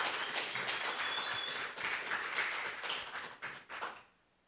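Congregation applauding during a Spanish-language church service honoring mothers, a dense steady clapping that fills the space for about four seconds before cutting off into near silence.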